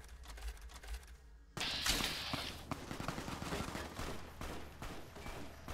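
NPCs trading gunfire in Fallout: New Vegas, a sudden burst of rapid overlapping shots that breaks in after a brief lull and keeps rattling close and loud.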